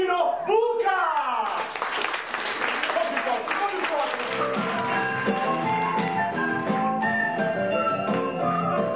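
An audience applauds to welcome chef Tino Buca, a loud burst of clapping at the start that soon blends with music and voices carrying on underneath.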